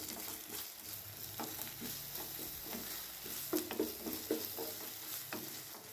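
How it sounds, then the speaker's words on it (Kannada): Ginger garlic paste is stirred as it fries in a pan for prawn masala, giving a steady sizzle with scraping spoon strokes and a few sharper clatters partway through, with no talking. "ಶುಂಠಿ ಬೆಳ್ಳುಳ್ಳಿ ಪೇಸ್ಟ್ ಹಾಕ್ಬಿಟ್ಟು ಚೆನ್ನಾಗಿ ಮಿಕ್ಸ್ ಮಾಡ್ತವ್ರೆ"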